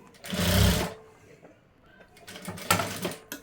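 A sewing machine stitches a blouse in two loud bursts of rapid running, separated by a quieter pause, with faint talk in the background.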